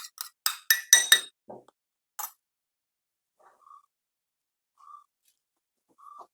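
Spoon stirring honey, aloe vera gel and rice water in a bowl, heard as a quick run of sharp clinks, then a few sparse, faint ringing tones in near silence.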